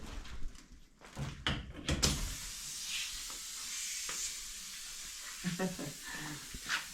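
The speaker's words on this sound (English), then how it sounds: "Just go flip the compressor on." An air compressor in a shed kicks on after a few knocks and clatters, then runs as a steady, fairly close hiss with occasional bumps and clanks over it.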